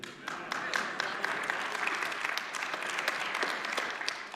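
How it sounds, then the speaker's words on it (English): Steady applause from a church audience, with claps thick and continuous for several seconds at moderate distance, and a faint murmur of voices underneath. "Even a couple students clapped, not many."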